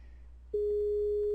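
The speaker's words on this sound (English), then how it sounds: "So I would click call, and it's going to call Aiden." A Skype outgoing call tone starts about halfway through as a single steady, loud electronic tone. It follows a quieter stretch of room hum.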